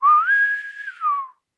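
A single person whistles one rising then falling note, clear and close, lasting just over a second, set in a Dungeons & Dragons tabletop scene in the woods.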